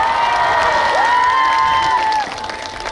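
A crowd of fans applauds and cheers at an outdoor festival concert on a cold night, a steady wash of clapping with shouts and a sustained vocal tone running through before it thins out near the end.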